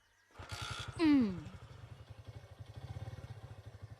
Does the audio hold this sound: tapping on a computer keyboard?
no